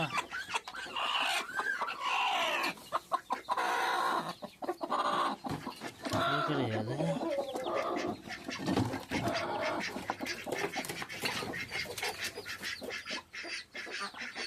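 A hen clucks and chirps near newly hatched chicks, a busy close stream of short fowl calls, with a voice speaking briefly among them.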